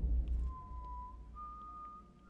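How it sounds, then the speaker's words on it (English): Two sustained whistled tones from a character in the video game Assassin's Creed Chronicles: China, one after another over a low rumbling game background, clear and fairly close. "Yeah, whistle, whistle, whistle."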